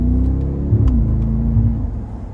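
The V8 engine of a 2025 Mercedes-AMG G63 in sport mode rumbles loudly up close after a downshift, its pitch holding then dropping slightly as it pulls, a deep steady drone while accelerating.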